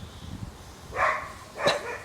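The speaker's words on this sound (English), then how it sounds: "You never find it now you started barking, Mads." Maddie, a dog out in the woods at a carp fishing spot, gives two short barks, a few steps away and moderately loud, after soft rustling.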